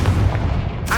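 An explosive Confringo spell bursts in the Hogwarts Legacy video game, a short, loud, booming blast with low rumble throughout and a brief crackling flare at the end.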